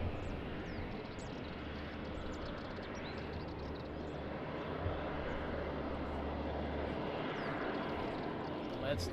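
Aircraft engines roar steadily in the distance as a plane takes off from runway 20 at Lisbon Airport on a rainy morning, a continuous broad rumble with a faint voice underneath.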